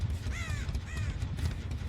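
Crows caw in the video game Dead by Daylight, two short harsh caws in quick succession over a steady low game-ambience rumble.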